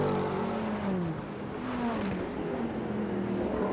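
A Mercedes CLR race car with a naturally aspirated V8 at the 1999 Le Mans 24 Hours, its engine droning loudly and continuously with a shifting pitch, heard alone and close without any talk.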